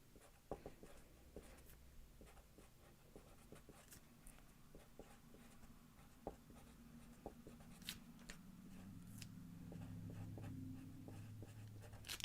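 A pen writes on paper in a quiet room, faint close scratching strokes and small taps coming in an uneven rhythm, with no voices.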